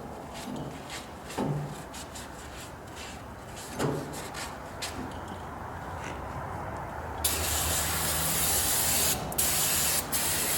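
A steady hissing spray of water washing a Ford 5610 tractor part runs throughout, with a few knocks early on and the spray growing louder and brighter near the end.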